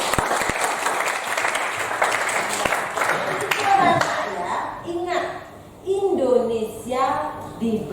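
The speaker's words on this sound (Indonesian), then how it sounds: "Tepuk tangan dulu." A classroom of children and teachers claps in applause during an academic supervision coaching session, a steady burst that fades by mid-clip as voices and chatter take over.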